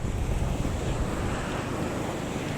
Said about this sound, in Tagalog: marami ngayon sa dagat o oh, kasi malakas ang alon